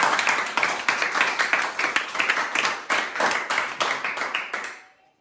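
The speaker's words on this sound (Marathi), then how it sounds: "अश्विनीसाठी टाळ्या वाजायचा" A group of people clapping for Ashwini, steady rhythmic applause of many hands lasting several seconds before fading out, fairly close, with no talking over it.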